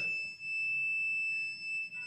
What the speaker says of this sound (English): then you can hear a buzzer alert